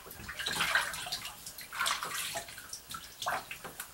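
Water splashes and sloshes in a shallow bath as legs are wetted, coming in a few close bursts of swishing and trickling with quieter gaps between them.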